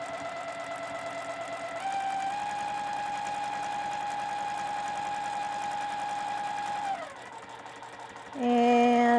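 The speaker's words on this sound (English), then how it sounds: "we're going to sew all the way across to the other side." A sewing machine stitches a straight line across fabric in a steady, continuous whir that shifts pitch near the end, with no voices.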